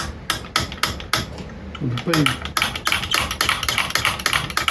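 Valves on a homemade compressed-air engine hit repeatedly in a rapid, clacking rhythm, sharp metallic taps up close with a brief murmur of a voice partway through.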